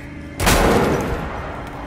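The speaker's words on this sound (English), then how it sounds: "Everything's ready. Open fire." A single sharp gunshot from a firearm in the video game Metro Last Light, close and loud, with a short decaying tail after the crack.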